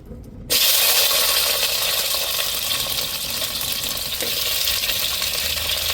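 Vegetables hit hot oil in a pan for a dried rock-fish curry, a sudden loud, steady sizzle that starts abruptly and holds close and constant throughout, with no talking.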